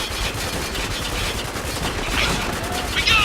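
Automatic gunfire in the war shooter Spec Ops: The Line, dense and continuous bursts with a busy, noisy mix throughout.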